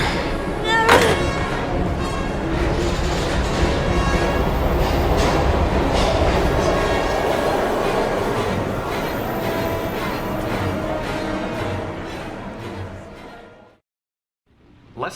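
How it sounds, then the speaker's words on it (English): A train moving in the video game Heavy Rain, heard as a loud, steady rumble with rhythmic clattering that runs for most of the clip, then cuts off abruptly into silence before a final thump. "We've got to get on that train, Ethan."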